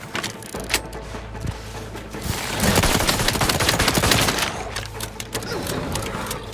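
A weapon in the game The Outer Worlds 2 fires in quick bursts of rapid shots, building into a dense, loud volley in the middle before trailing off into scattered shots.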